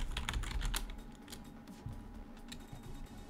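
Quick, light clicking of fingers typing on a computer keyboard, an irregular patter of close, crisp keystrokes with brief pauses, heard alone without talk.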